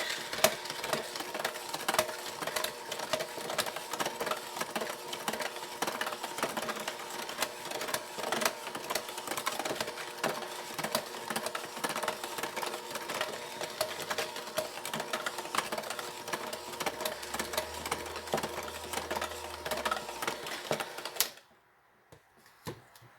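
Electric mixer beating cake batter with orange zest for an orange Rehrücken cake, a steady buzzing whir running without pause for about twenty seconds, then stopping abruptly.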